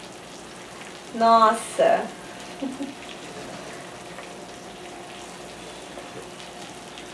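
Slime being cooked, giving a faint, steady sizzling crackle that runs throughout, briefly overlaid by a short exclamation from a voice.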